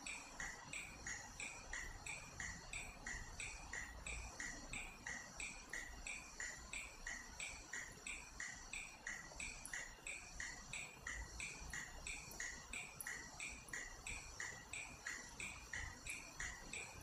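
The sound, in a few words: cicadas chirping loudly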